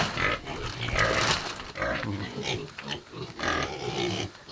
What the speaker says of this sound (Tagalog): Amo na ang baboy ni Tisoy.